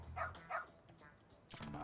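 A dog barks twice in quick succession in the video game Lost Judgment, followed by a brief burst of louder game sound, with voices faintly present.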